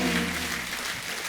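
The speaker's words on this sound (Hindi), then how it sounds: "एक बार जॉन, मृणाल और रवि भाई के लिए जोरदार तालियां।" Studio audience applause for guests John Abraham and Ravi Kishan on a Hindi comedy show: a short, steady wash of clapping over a faint tonal background.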